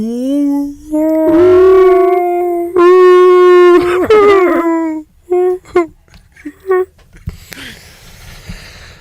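A man imitates a humpback whale with a long, loud, sustained vocal moan that slides and wavers, followed by shorter whooping calls and fading bursts, close to the mic.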